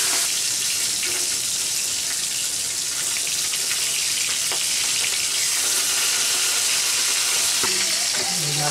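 Fish sizzling steadily in a frying pan, a continuous loud hiss of hot oil with occasional small crackles and faint clinks of a utensil near the end.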